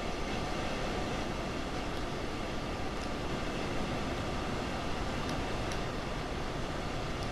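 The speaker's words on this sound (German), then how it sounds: "Wir fahren auch einen verdammt langen Zug schon." A very long train driven in the Train Sim World game on PlayStation 4, a steady, dense rumble of rolling wheels and engine noise that holds at the same level throughout, with faint high clicks from the rails.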